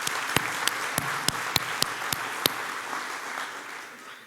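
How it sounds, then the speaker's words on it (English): Crowd applause for speakers at a CHA 2026 luncheon, a steady wash of clapping from a large room lasting about four seconds and fading at the end, with a few sharp individual claps standing out near the front. "Let's give them another round of applause."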